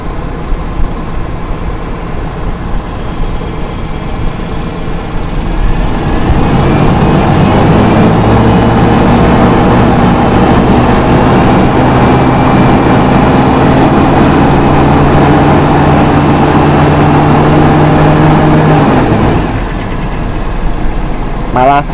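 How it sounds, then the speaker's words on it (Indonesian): A Toyota Kijang's carburetor engine climbs from idle to a higher, steady rev and holds there for over ten seconds before dropping back, loud and close, with someone talking over it. "Coba saya naikkan RPM teman-teman"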